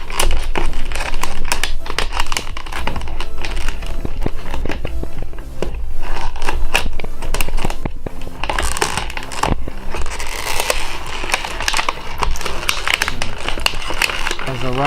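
Crinkling and crunching of plastic toy packaging being cut open around a Star Wars droid figure, close-up snipping, tearing and rustling in irregular bursts, with a voice talking over parts.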